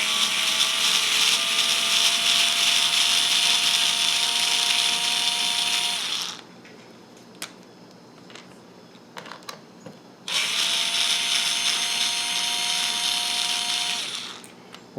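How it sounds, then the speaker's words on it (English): A power drill backs screws out of a ZD Racing Pirates 3 RC car base plate in two loud, sustained whirring runs separated by a quiet pause with a few small clicks. "I guess I could put this in the drill and zip them out quicker"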